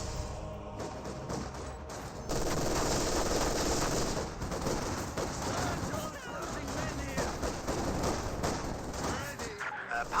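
Dense rifle and machine-gun fire crackles through a Company of Heroes 2 battle, with bolt-action rifles and other weapons firing in continuous, overlapping bursts at steady loudness for about ten seconds.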